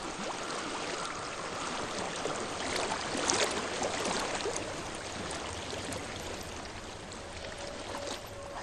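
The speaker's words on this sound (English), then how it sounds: "I hear water." A flowing stream in the video game Hellblade: Senua's Sacrifice, a steady broadband rush of running water that stays even and fairly quiet from start to finish, with no voices.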